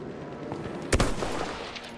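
Gunfire in the video game Battlefield 1, a sharp loud shot burst near the middle with a few lighter pops around it over constant battle ambience.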